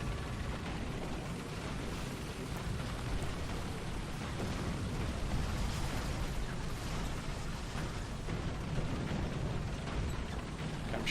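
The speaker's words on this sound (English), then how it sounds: "artillery inbound" Artillery shells bursting in War Thunder around a tank on soft ground, a dense, continuous roar of booms and rumbling with no clear gaps, loud and steady throughout with no talk.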